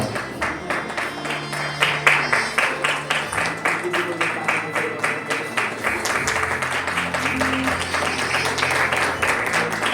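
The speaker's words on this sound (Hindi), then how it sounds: "और आप सभी लोग इस खूबसूरत से मौके पर जोरदार तालियां बजाएंगे तो हमें बहुत अच्छा लगेगा" Rhythmic clapping from an audience at an entrepreneur conclave in a hotel hall, a steady beat of claps over music and a low hum, continuing for the full ten seconds.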